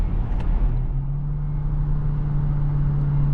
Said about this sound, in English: You just do have to really rev out this engine.